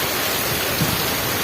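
Heavy unseasonal winter rain pours down in a Kutch village, a loud, dense roar that holds steady with no pauses and no voices.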